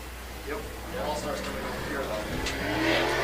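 Sprint car engines droning around a Michigan track at I-96 during qualifying laps, a steady distant roar with rising pitch sweeps as cars pass, under a public-address announcer talking.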